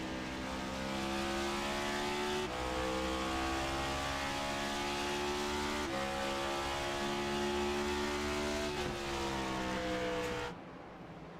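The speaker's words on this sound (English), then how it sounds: "A lot of downshifting going on in the turn." Race car engine in a sim racing video game, a loud, continuous high-revving drone with repeated stepwise pitch drops as it downshifts through a turn, ending in a sudden cutoff.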